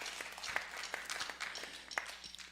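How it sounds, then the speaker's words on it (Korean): Applause from a church congregation at a New Year's special prayer service, a moderately distant, scattered patter of clapping with a few sharper individual claps, fairly quiet and steady throughout. "박수 쳐줘야 돼. 이럴 때 박수가 나요."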